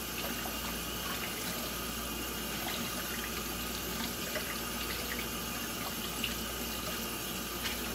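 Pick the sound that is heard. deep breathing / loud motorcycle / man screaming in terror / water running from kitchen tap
water running from kitchen tap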